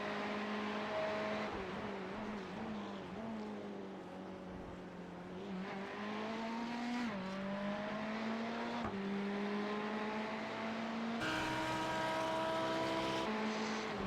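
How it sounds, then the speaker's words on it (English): A Lamborghini GT3 race car engine at Hockenheimring in a racing game, a steady loud drone that rises through the gears, shifting up repeatedly with brief dips between pulls, heard alone. "Lambo sounds so good."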